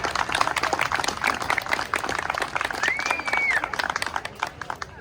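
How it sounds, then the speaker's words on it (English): A crowd at a mural celebration event gives a round of applause for the first guest, close, loud, irregular clapping with a brief whistle or cheer partway through, continuing throughout. "round of applause for our first guest today"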